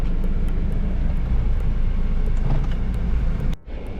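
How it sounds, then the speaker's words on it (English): A car drives along rough village roads, its engine and tire rumble loud and steady from inside the vehicle, dipping sharply for a moment near the end before resuming. "We're driving through some proper villages always to find these saints."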